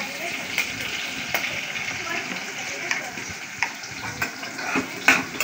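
Onions frying in a dal tempering with asafoetida: a constant crackling sizzle with scattered stirring clicks and small pops, fairly close.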